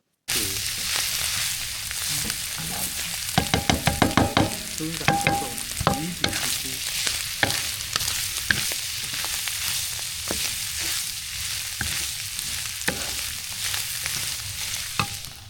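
Fish caught that morning from a lake fries in a pan during winter fishing, with a continuous close sizzle and crackle, brief metallic clinks early on, and a few louder spits and pops.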